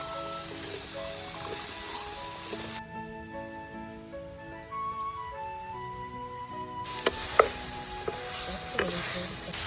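Cut water apple sizzles in hot oil with chili powder and turmeric while a spoon stirs it, a steady close frying hiss with scraping and clinking, part of making a Kerala-style pickle.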